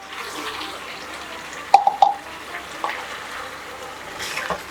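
Spice-rinsing water splashes into a pan of chicken korma cooking over low heat, a short burst of splashing and hissing sizzle against a soft, steady simmer.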